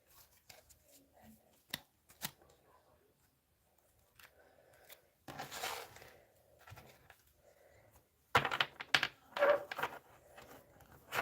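A large tarot deck with extra cards is handled and shuffled close up, scattered soft taps and brief riffling bursts, the loudest shuffles late on, with no speech.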